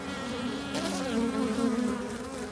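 Bumblebees buzz in a continuous, close, steady drone with slight shifts in pitch and no voices.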